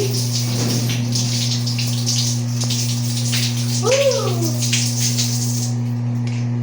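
Water pours steadily and splashes in a bathroom while someone bathes, a continuous close hiss over a low hum, with a brief vocal sound partway through.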